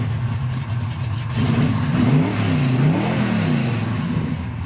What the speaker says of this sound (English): It's got a freshly rebuilt, powerful big block underneath the hood